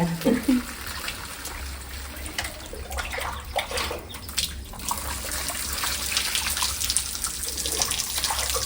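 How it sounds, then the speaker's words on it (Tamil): Water poured steadily in a home, a continuous splashing rush that runs the whole time and grows slightly fuller toward the end, with a short voice near the start. "தண்ணி ஊத்துறீங்களா அப்பாக்கு"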